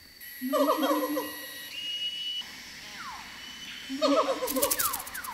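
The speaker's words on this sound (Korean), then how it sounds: "기본들이 고요한 숲의 정막을 깨우며 목소리를 높입니다" Rising whooping calls of gibbons in a quiet forest in two bursts, with whistly hooting notes and a faint background hiss between them.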